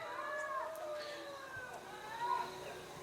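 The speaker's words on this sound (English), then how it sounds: "My cat's being real dumb." A cat meowing in long, drawn-out, wavering cries, two or three calls in a row, fairly close and alone over quiet background.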